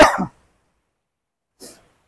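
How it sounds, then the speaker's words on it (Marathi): A man with a cold coughs near the microphone during a motorcycle trip, a sharp loud cough followed by silence and then a fainter second cough. "थंडीच्या मुळे खोकल्याने फुल वाट लावलेली माझी"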